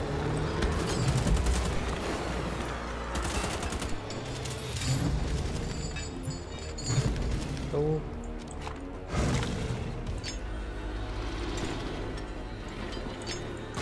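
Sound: gunfire in video game Wolfenstein: The Old Blood

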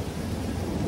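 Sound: thunder and heavy rain

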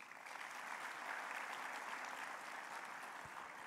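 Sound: audience applause for the president

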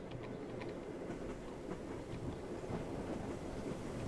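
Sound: train rolling along the rails, from the video game Train Travel Sim

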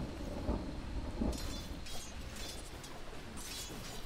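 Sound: thunder from Disruptor's ability in the video game Dota 2

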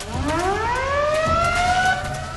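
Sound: old-fashioned alarm siren in Metal Gear Solid 3 video game

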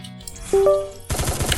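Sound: gunfire in the video game Free Fire

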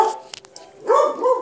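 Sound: dog barking

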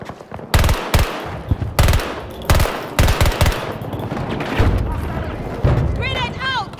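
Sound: sniper gunshots in the video game Battlefield 2042

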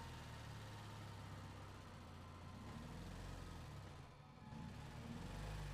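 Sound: tractor engine in Resident Evil 4 video game

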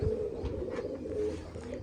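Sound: pigeon cooing

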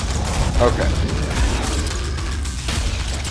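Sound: gunfire in the video game Killing Floor

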